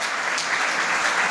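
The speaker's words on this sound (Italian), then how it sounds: "Accogliamo il sindaco con un forte applauso." A crowd applauds warmly to welcome the mayor of Ruvo del Monte on stage at the Basilicata International Film Festival, a loud, dense and continuous patter of many hands throughout.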